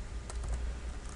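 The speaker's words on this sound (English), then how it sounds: "just start typing in text and content" Quick, light keystrokes on a computer keyboard as text is typed into a page editor, a soft patter of faint, close clicks over a low background hum.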